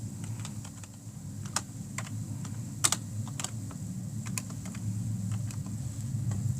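Steady typing on a computer keyboard in a church media booth, with a run of distinct key clicks and a few sharper taps over a continuous low hum.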